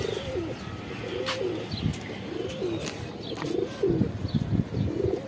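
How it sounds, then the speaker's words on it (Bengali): A pair of Shahjahanpuri pigeons coo close by, soft repeated throaty calls with a few small chirps and light rustling in a quiet room. "এই যে এগুলো হইতেছে আমাদের বাসার একবারে টপ কোয়ালিটির একজোড়া শাহজাহানপুরি কবুতর।"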